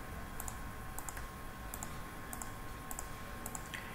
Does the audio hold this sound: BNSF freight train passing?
no